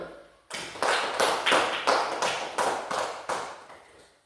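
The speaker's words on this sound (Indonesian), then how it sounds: "tepuk tangan untuk kelompok 1 dulu" Classroom applause for a student group after their presentation, heard as a run of loud, evenly spaced claps and taps starting after a half-second pause and continuing steadily to the end.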